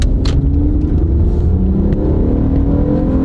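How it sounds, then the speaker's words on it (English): Old Honda car engine accelerating under throttle, a loud continuous rumble close to the microphone with rising revs and steady drone, no talking. "We'll step on the gas."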